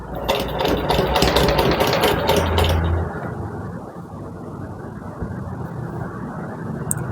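A sewing machine stitches umbrella frock fabric in a fast, loud whirring run for about three seconds, then stops, leaving quiet room noise.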